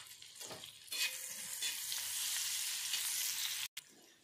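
Sliced onion frying in hot butter on a tawa for tawa pulao, a loud, continuous hiss and crackle close up, with a brief stir and a short break near the end.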